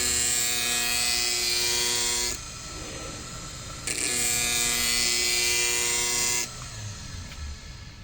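A powered Incredible Edger Ultima Mark 1 sharpener runs on thin stainless skate blades, giving a loud, steady, high-pitched buzzing whine in two long passes broken by lower grinding stretches.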